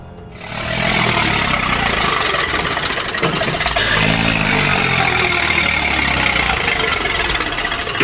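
A T-150 tractor engine strains while stuck in deep mud, a loud continuous rough diesel roar that kicks in after a brief quiet start and holds heavy and steady throughout, with some knocking texture.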